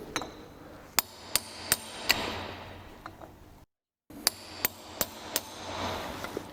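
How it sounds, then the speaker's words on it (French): Hammer strikes on a chisel staking a nut on the handbrake cable of a Peugeot 205 CTI, heard as sharp metallic taps, four then four more, spaced about half a second apart, close and clear over light room noise, no talking. "on prend un burin et on tape dessus sur la vis"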